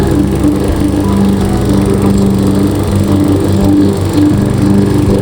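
A petrol grass-cutting machine runs close and loud, its engine droning steadily throughout with a rough, buzzing drone and no talking.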